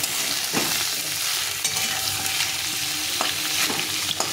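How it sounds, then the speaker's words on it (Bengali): Squash and potatoes fry in a pan with a loud, continuous sizzle and a few scraping stirs. No one talks. "এখন আমি কোয়াশগুলোকে ভেজে নেব।"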